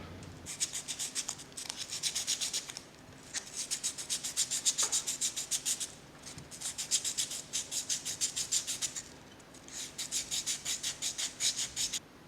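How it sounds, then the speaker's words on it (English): Rhythmic back-and-forth sanding strokes on the front shoe of a surfboard planer, a steady rasping scrape repeated in bursts of several seconds with brief pauses between, close and fairly loud. "I've just finished sanding the front shoe"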